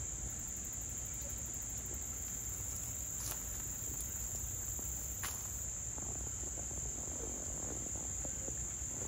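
Insects chirp steadily at a lake at night, a dense continuous high-pitched trill that stays even and fairly close for the whole stretch, with a low rumble of background noise beneath.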